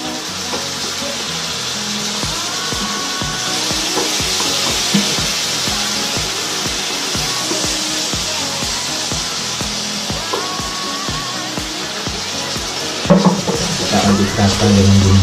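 Squid fries in a pan with Balinese spice paste, a steady broad sizzling hiss running throughout, with scraping stirs and a louder clatter near the end.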